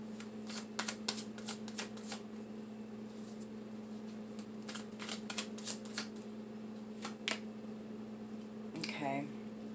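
Tarot cards are shuffled and drawn in bursts of quick, soft riffling flicks and taps, recorded close and quiet over a steady low hum, with a brief voice near the end.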